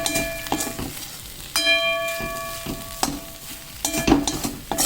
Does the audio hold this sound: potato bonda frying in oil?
yes